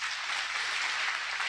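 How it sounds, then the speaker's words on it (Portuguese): A church congregation applauds the Lord loudly, a dense, even wash of many hands clapping with no break or voices standing out. "Aplauda bem forte o Senhor."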